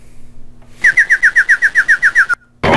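A bird in the Gus Goes to CyberTown video game whistles a quick run of about a dozen evenly spaced, bright chirps at a steady rhythm, loud and clean against near silence, then stops abruptly.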